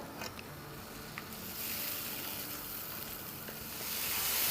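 Tomatoes and masala frying over a medium-high flame in a pan for rajma, a steady close hiss of sizzling oil that swells slightly louder toward the end, with faint stirring clicks.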